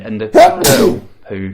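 A single sharp sneeze bursts out between bits of speech, close and loud, with a voice talking just before and after it.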